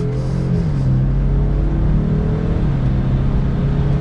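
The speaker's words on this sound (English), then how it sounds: "we'll do one last acceleration for today's video" A 2022 Land Rover Defender S 90 engine revs up as it accelerates, its rising drone loud and close, with no talking.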